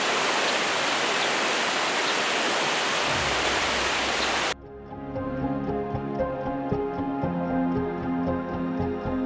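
A river in the Dirang valley rushes with loud, steady broadband noise for about four seconds before cutting off abruptly, replaced by music.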